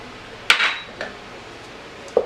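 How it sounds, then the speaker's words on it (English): A spoon clinks against a pot of homemade marinara sauce with fresh parsley as it is stirred, three sharp metallic taps spaced apart over a quiet background. "Give it a nice stir."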